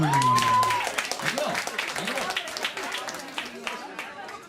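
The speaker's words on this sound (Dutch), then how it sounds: "Applaus!" An audience claps and cheers after a song at a comedy or music show, a burst of applause that swells at first, then thins into scattered clapping. A sung tone rings out briefly at the start.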